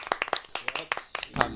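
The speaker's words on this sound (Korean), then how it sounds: "박수! 박수!" A few people clap by hand in a small room during a live music session, quick uneven close claps with a voice briefly underneath.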